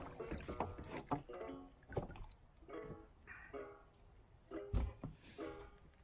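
Oars dip and creak as a small fishing boat is rowed around, a series of uneven knocks and splashy strokes close by, fairly quiet with pauses between them.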